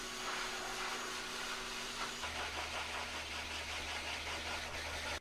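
Loud, steady whooshing roar of a blow dryer drying a cat close by with a constant low hum, shifting slightly in pitch midway.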